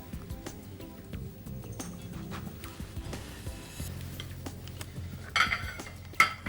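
A whisk beats a mixture in a bowl for a chocolate pastilla, with steady close metallic scraping and tapping against the bowl that grows into a few sharper clinks at the end.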